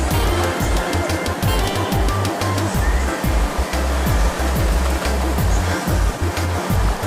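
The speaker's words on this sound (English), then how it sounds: "Yeah, tourists rafting in the river." Water of the Martha Brae River in Falmouth, Trelawny, rushes steadily around a bamboo raft, a loud continuous wash with repeated low thumps knocking underneath.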